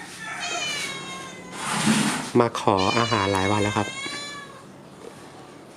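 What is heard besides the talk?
stray cat meowing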